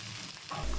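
Rohu fish pieces fry in hot oil in a pan, giving a low steady sizzle that swells louder over the last moments of a short stretch with no talk.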